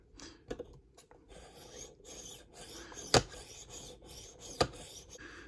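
Knife blade being honed on the honing side of a Tumbler sharpening system, quiet repeated rasping strokes close up, with a couple of sharp louder clicks or taps between them.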